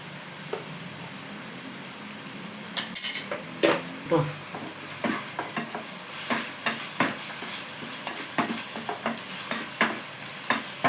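Chicken gravy, just salted, sizzles in a pan while a spatula stirs it. A constant close hiss runs under irregular scraping and clinking strokes against the metal. These begin a few seconds in and then repeat steadily.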